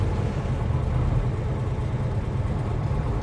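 A 1970 Plymouth Road Runner with a 4-speed runs in a steady, rumbling low-pitched drone, moderately close and without voices.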